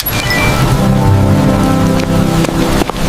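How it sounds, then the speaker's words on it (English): Heavy rain falls loud and close, a dense continuous patter with a low rumbling undertone and a few sharper drips near the end. "I didn't know it was gonna rain, or I would have brought my umbrella."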